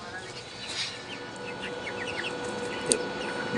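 Chickens in a poultry farm house cluck and call through a steady background din, with scattered short calls and one brief sharper squawk near the end.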